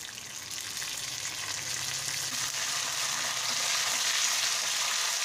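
Mustard seeds and curry leaves crackle and sizzle in hot oil for a South Indian tempering, a close, steady hiss of frying that grows slightly louder with faint stirring.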